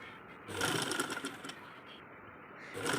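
A sewing machine stitches fabric around a round neckline in a continuous, close whir, rising slightly in the middle as the cloth is fed through bit by bit.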